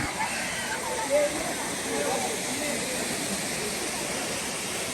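Constant broadband rush of a waterfall in India heard from a short distance, steady and uniform, with voices faintly talking over it.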